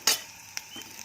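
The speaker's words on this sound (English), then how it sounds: "sliced garlic, boom, goes in. Stir it." Sliced garlic hitting hot oil in a stir-fry pan for Cantonese chicken: a sharp sizzling burst at the start, then a quieter crackle with a couple of light stirring clicks.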